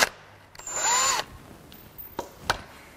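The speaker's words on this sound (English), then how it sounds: "you gotta drill the holes after they're shaped" A small power drill whirs briefly at high speed drilling holes in shaped armour gauntlet pieces, followed by a few sharp knocks and taps of tools on a hard surface.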